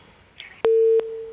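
Telephone busy tone after a call is hung up: a faint chirp, then loud, steady, clean beeps repeating in quick succession, with no voices.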